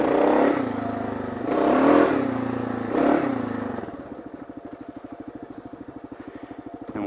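A Kawasaki KLR650 motorcycle revs loudly in three surging bursts as the rider stabs the rear brake to slide on dirt, then settles into a steady, lumpy thumping idle.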